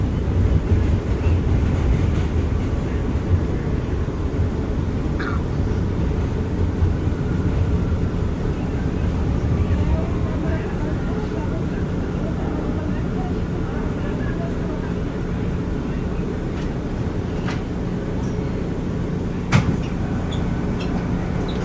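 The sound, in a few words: R179 subway train, Queens-bound J train running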